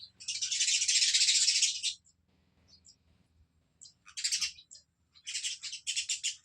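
Sparrows chirp in a sown field, with a long burst of dense high twittering followed after a pause by several shorter, choppy chirp clusters, fairly close and with no talk.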